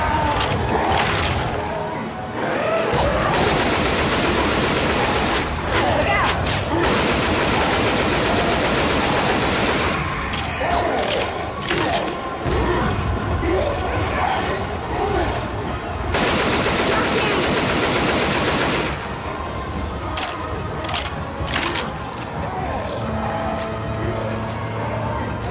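Sustained automatic gunfire fills Left 4 Dead 2 as survivors unload on a Tank, loud, dense bursts running almost without pause, with brief lulls and shouted voices mixed into the din.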